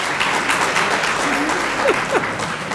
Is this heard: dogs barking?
no